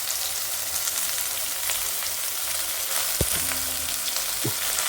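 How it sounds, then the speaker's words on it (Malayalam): Onions sizzling in hot coconut oil in a pan for a pork curry, a steady broadband frying hiss with a couple of brief knocks or stirring clatters partway through, no voices. "നമുക്ക് ആദ്യം സവാള വാട്ടി നല്ല രീതിയിൽ വാട്ടിയെടുക്കാം."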